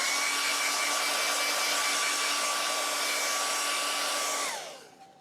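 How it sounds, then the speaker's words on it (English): A steady whirring hair dryer blows continuously at close range, drying paint on a hand-painted sign, its motor whine holding even before switching off and winding down at the end. "we'll often use a hair dryer to dry some paint."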